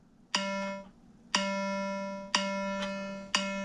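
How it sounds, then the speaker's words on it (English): Metronome clicks and a drone tone from the Modacity practice app: four sharp, evenly spaced chime-like beeps about one second apart, each over a sustained low drone, clean and close. "where you can have a drone and a metronome"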